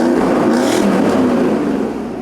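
A Mercedes W140 engine revs hard through aftermarket MG exhaust tips, producing a loud, close, continuous roar that eases slightly at the end.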